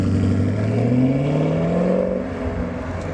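A 2018 Chevy Camaro SS with its 6.2-liter V8 and exhaust valves open in track mode rumbles through a cold start, its loud, deep note climbing steadily in pitch before easing off, close and alone.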